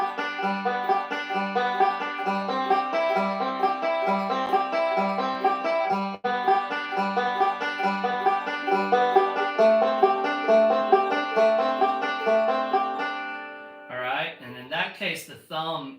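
Acoustic guitar fingerpicking a repeating pattern played in reverse order, middle finger, index, thumb, in a steady, bright rhythm up close, with a short stretch of talking at the end.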